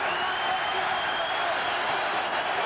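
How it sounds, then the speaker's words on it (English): A boxing arena crowd roars at the close of the first round of a heavyweight bout, a loud, steady wall of cheering and applause that holds unbroken throughout. "you'll hear a big roar from the crowd"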